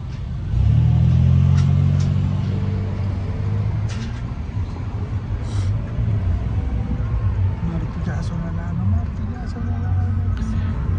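Dense city traffic in Mexico City hums and rumbles steadily, with an engine revving up loudly near the start and vehicles idling and moving close by, amid general street noise.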